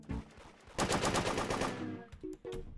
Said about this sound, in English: And then you can start shooting again.